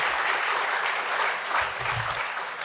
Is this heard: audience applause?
yes